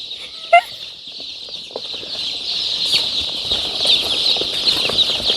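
Chickens, with chicks being let out of cartons, make a continuous high peeping chorus nearby, and a single louder cluck or squawk stands out early on.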